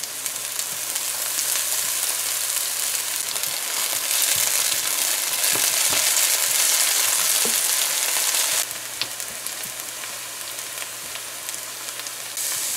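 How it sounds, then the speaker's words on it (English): Loud, steady frying sizzle in a pan as scallions go in for fried bora with saltfish, the hiss swelling briefly when they are added, with a few light stirring taps and no talking. "So you're going to fry this up for about 30 seconds or so. And now we're gonna add our scallions."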